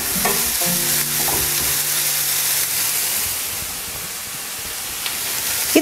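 Mild red paprika sizzles and hisses steadily in a hot pan for shakshuka, with a few scraping stirs near the start, close and constant throughout.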